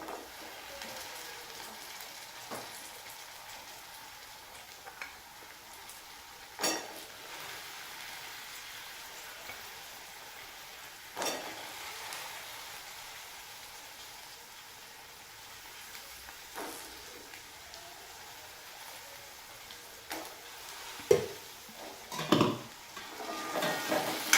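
Green peas being sautéed with fried onion in a pan, a steady soft sizzle running throughout with occasional sharper scraping and stirring clatters toward the end, no voices.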